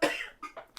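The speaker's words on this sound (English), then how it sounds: "Apologies, sorry about the coughing." A person coughs: one harsh, loud cough followed by two smaller, quieter coughs in quick succession.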